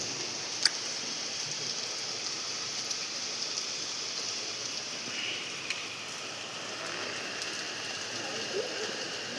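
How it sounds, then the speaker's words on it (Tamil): Heavy rain pours down in Kodaikanal, a steady, dense hiss that fills the scene from start to finish, with a few faint sharper ticks over the constant wash. "இப்போ தான் மழை மதியத்துலேருந்து தான் அடித்து ஊற்றிட்டு இருக்கு."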